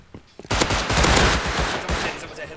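Rapid automatic gunfire in a shooter video game, a loud close burst starting about half a second in and continuing as a dense rattle, with a voice briefly heard beforehand.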